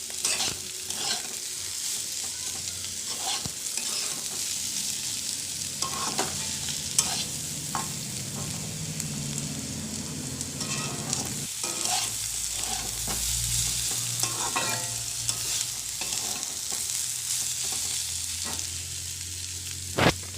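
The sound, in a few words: potatoes and onion frying and being stirred in a pan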